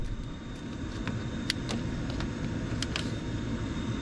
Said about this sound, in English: So if we go here, all we have is the blower motor running.